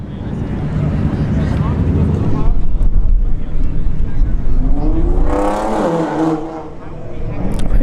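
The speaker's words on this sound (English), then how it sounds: "got a Camaro SS in the right lane" A Camaro SS race car at a drag strip in Bradenton, its engine roaring and rising under a commentator's voice, with wind buffeting and a brief higher surge midway.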